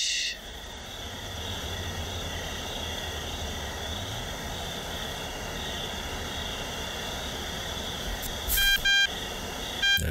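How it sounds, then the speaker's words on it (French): A phone rings in the stealth video game Thief Simulator, with a few short electronic tone bursts near the end over a steady ambient hum. "D'accord, téléphone qui sonne."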